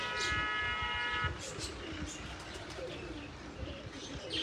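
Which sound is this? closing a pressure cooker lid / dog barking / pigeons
pigeons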